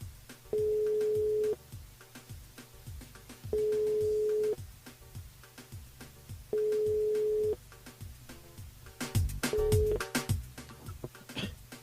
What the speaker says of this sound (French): On appelle Anne, Aline